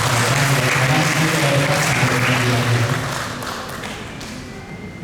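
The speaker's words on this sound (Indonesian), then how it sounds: "berikan tepuk tangan dulu Bu" Audience applause at a university religious lecture event, honoring a first-arriving attendee: a dense wash of crowd clapping with some voices underneath, fading gradually toward the end.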